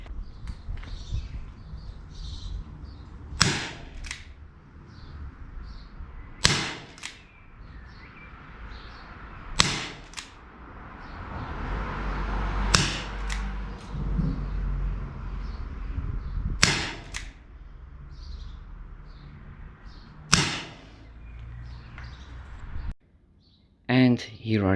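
Plastic airsoft BBs fired from 5 meters away, roughly seven sharp, separate snapping shots and impacts spaced a few seconds apart, with quiet background between them.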